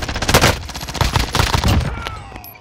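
A light machine gun rattles in a fast, continuous burst of closely spaced shots in an online shooter, loud and near, with no talking over it.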